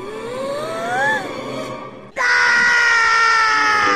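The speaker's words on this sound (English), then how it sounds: "I'm so frustrated, I could just scream." A cartoon character lets out a loud, sustained scream of frustration, sharp and close, following a stretch of strained vocal wailing.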